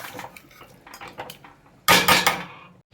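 Fish heads go into a pot of simmering mung dal in a home kitchen, first soft scattered clinks and taps, then a sudden louder clatter and splash of metal and liquid, with no talking.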